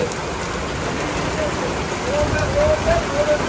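Torrential rain falling around a roadside tea stall at Chalan Beel, a continuous hissing wash that swells slightly near the end, with faint voices murmuring under it.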